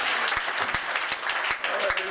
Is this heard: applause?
yes